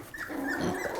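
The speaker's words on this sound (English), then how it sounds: "Lots of ferocious growls." Several puppies growl at each other during play, a close, continuous rumbling snarl with small yips mixed in, fairly quiet overall and free of talk.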